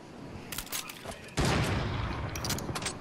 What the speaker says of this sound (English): I'm just shooting random shots at this point